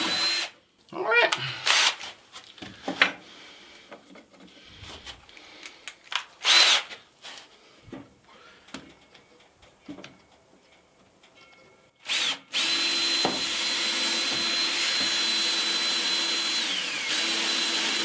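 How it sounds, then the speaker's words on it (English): Power drill countersinking screw holes in shelving inside a shipping container home, with short bursts at first, then a steady loud whine running continuously through the last few seconds; some talk and handling noise between the bursts. "Let's do this so I get two perfectly good countersink holes"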